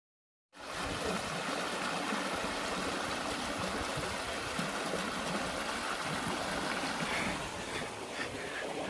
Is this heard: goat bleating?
no